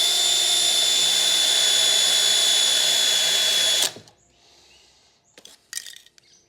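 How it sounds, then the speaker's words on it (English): An electric drill whines loudly and steadily for about four seconds drilling a hole for pop rivets, then stops abruptly, followed by a few faint clinks and handling noises. "Let's put a hole over there."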